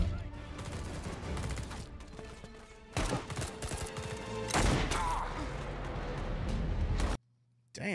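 Gunfire in a Secret Invasion TV show scene: rapid bursts of shots and heavy impacts, loud and dense with a rumbling background, cutting off abruptly near the end.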